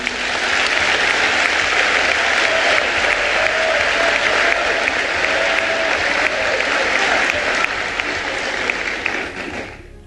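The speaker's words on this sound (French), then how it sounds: "Je vous demande de les applaudir chaudement" Delegates at a PDCI-RDA party congress applaud warmly with loud, sustained, dense clapping from a large hall crowd that holds steady for about ten seconds before tapering off at the end.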